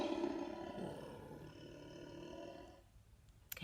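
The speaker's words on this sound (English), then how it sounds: "He was roaring, he was snarling, almost sounded like a growl as well." A lion roars and snarls with a growling edge, a loud rough rumble sustained for nearly three seconds before fading, followed by a brief sharp click near the end.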